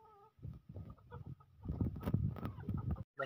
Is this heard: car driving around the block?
no